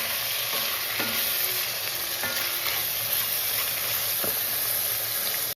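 Onions with coriander powder frying in a pan for kadi pakoda, a loud continuous sizzle close up with occasional light stirring clicks and scrapes throughout.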